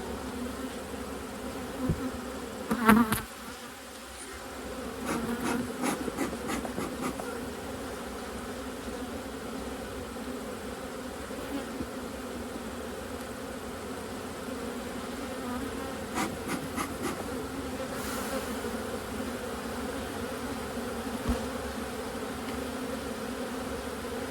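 Honey bees buzz around an open hive during a fall inspection, a steady, close drone filling the whole stretch, with a few brief knocks and scrapes of handling near the start and middle.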